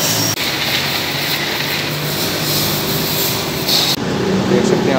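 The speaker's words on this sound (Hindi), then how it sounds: "तो अभी वॉश हो रही है बाइक।" A pressure washer sprays water over a motorbike being cleaned at a bike service, a steady loud broadband hiss running almost unbroken with a brief dip near the start and another shift near four seconds, speech faintly mixed in.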